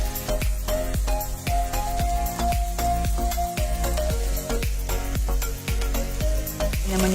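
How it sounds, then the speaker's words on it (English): Beef seasoned with salt sears in an oiled pan, giving a steady, dense sizzle that runs unbroken throughout, with close, crisp crackling and occasional sharper pops from the hot fat. "Hear the sizzle? That's just what we want."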